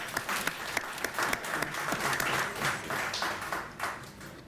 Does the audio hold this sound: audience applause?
yes